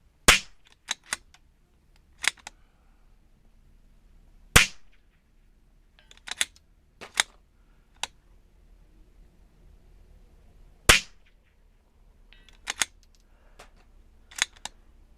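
Zermatt Rim-X .22LR rifle firing outdoors: a series of about a dozen sharp, close cracks at irregular intervals, with faint mechanical handling sounds between shots and no talking.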